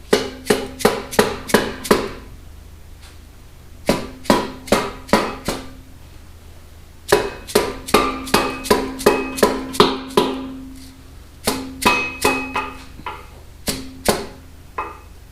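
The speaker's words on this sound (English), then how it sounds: "I just take a dead blow, tap everything in." A dead blow hammer taps rear differential gear parts into place, sharp strikes in quick bursts of four to six with short pauses between, close and clear.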